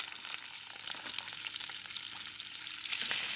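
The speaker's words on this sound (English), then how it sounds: "I'm using the same wok to put the onion in it." Onion hitting a hot wok beside seared beef, a soft continuous sizzle with light stirring scrapes, fairly quiet and close.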